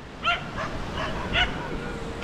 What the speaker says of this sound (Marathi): आणि इकडे खूप कुत्रे आहेत, भुंकतायत ते बघा.